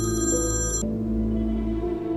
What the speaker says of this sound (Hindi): अरे केनान का फोन है।